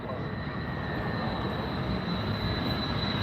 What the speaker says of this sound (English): it's the Aer Lingus coming in from Dublin